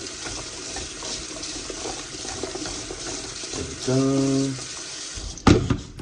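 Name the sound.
tap water rinsing cut potatoes in a bowl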